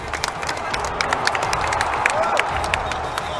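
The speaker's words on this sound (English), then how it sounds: "we're clapping" Scattered clapping and crowd noise fill a hall at an esports grand finals for a Gundam Versus fighting game, with light cheering and murmuring voices under the applause.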